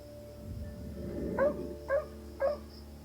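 A dog outdoors barks up into a tree at night, giving three short yelps about half a second apart after a low muffled rustle, fairly faint and distant over a steady background hum.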